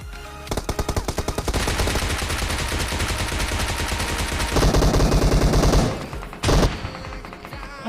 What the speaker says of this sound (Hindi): मैं शॉटगन मार दिया और शॉटगन लग गई